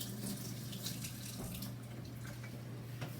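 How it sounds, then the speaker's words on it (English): Tap water runs steadily into a sink while hands are rinsed beneath it, a continuous near hiss of flowing water with soft splashes and no voices, in a home kitchen during bread-making. "I'm just going to rinse my hands quick"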